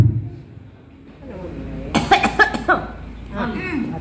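Two or three sharp coughs burst out close to the listener in an indoor classroom setting, with a quieter throat sound and a murmur of talk before them and further voices after.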